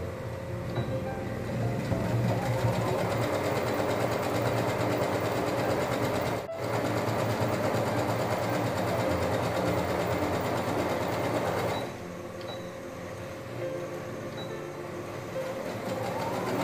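A sewing machine stitches a folded cloth hairband, running as a steady, close mechanical whir for about twelve seconds before easing into a slightly softer hum. No one speaks.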